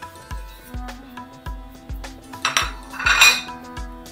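Jaggery being stirred into vermicelli payesh in a metal pot, a close run of regular clinking scrapes of the spoon against the pot, about two per second, with no talk.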